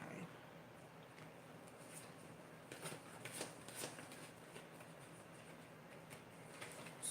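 A deck of cards being shuffled quietly, with soft repeated riffling and flicking bursts close by in an otherwise calm room, sometimes under low talk.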